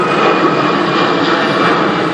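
A jet aircraft passes overhead at an outdoor protest at the DSEi arms fair, its broad, steady engine roar filling the scene loudly and continuously without voices.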